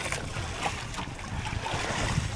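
Rough sea waves slap and churn around a small boat, with steady wind buffeting the microphone throughout, loud and close.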